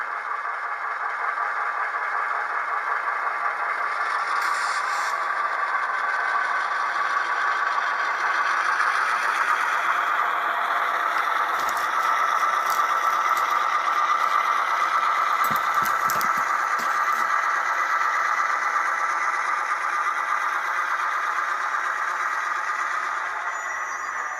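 A ScaleTrains Rivet Counter SD38-2 model locomotive runs in reverse with a steady motor whir and hum, broken briefly by a few faint rattles and clicks.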